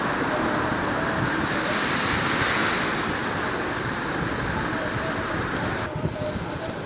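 Strong wind roars without a break against the microphone on a mountain road during a bike tour, with heavy cold rain mixed in as a dense, loud wash throughout and no speech.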